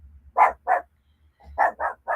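A dog barking: two loud, sharp barks close by, a short pause with a quiet yip, then three more barks in quick succession.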